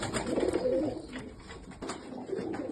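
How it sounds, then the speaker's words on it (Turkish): Pigeons coo softly in low, rolling bursts, with a lull in the middle before the cooing picks up again. Faint background noise sits underneath. "Bizzat Şenol abi gidip kendisinden aldığımız kuşlar Ankara'dan"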